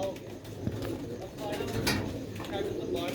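Sialkoti pigeons cooing softly in repeated low throaty calls, fairly close, against a steady background hum with faint human voice nearby.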